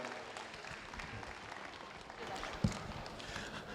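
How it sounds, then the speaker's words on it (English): A crowd at a heart-health outreach event gives Dr. Golla a round of applause, a steady, fairly distant patter of clapping with a single louder thump near the end. "Let's get a round of applause one more time for Dr. Golla"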